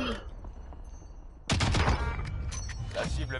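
Sniper gunfire in the video game Warzone: a quiet stretch breaks into a sudden loud volley of sharp shots, followed by continued crackling gunfire and impacts.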